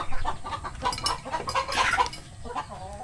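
Pet chickens cluck and chatter together while feeding, several birds calling in quick overlapping bursts close by throughout.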